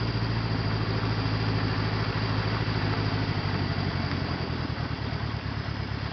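A 1977 Honda CB750A Hondamatic motorcycle rides through a parking lot in low gear, its engine a steady, close, continuous rumble with no voices over it.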